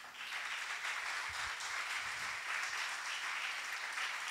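A church congregation applauds during a service, a steady wash of many hands clapping at a moderate distance, fairly quiet and unbroken for several seconds.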